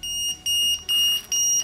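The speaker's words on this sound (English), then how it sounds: "Now this buzzer is beeping." The buzzer on a fire fighting robot sounds four shrill, evenly spaced beeps, close and clear, with no talking over them.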